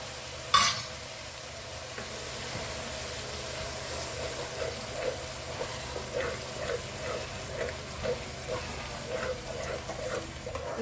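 A spoon stirs mutton masala curry with yogurt and tomato in a pan, making rhythmic scraping strokes over a continuous close sizzle, after one sharp clatter at the start.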